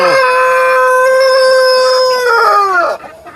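A Light Brahma rooster crows close by, one long, loud, drawn-out cock-a-doodle-doo that holds steady, then falls away and ends abruptly near the close.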